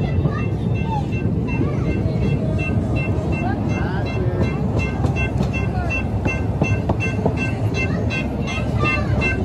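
A small ride-on train at a Christmas light display rolls past, a steady loud rumble with rhythmic clacking throughout, while people talk over it.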